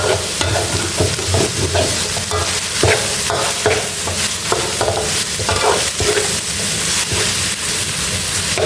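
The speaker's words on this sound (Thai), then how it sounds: "นำหมูผัดพริกแกงให้หมูสุกก่อน" Minced pork stir-fried with red curry paste in a pan gives a steady, loud sizzle broken by repeated scraping and stirring strokes, close up, with no talking.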